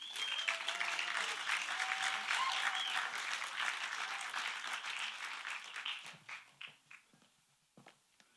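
Wedding guests at a toast and speech reception clap in a sustained round of applause that lasts about six seconds and then thins into a few scattered claps.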